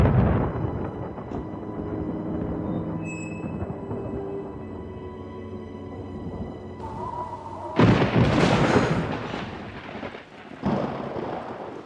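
A heavy thunderstorm rumbles with low, rolling thunder under steady rain, then a sharp, loud crack of nearby thunder breaks out near the end and decays into further rumbling.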